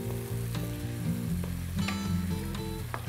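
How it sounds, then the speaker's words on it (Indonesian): Lemongrass, turmeric leaf and lime leaves sauté in a pan for Padang-style gulai, a continuous close sizzle with occasional scraping stirs and faint clinks. "Ini kita tumis sampai betul-betul semuanya menjadi harum dan matang ya"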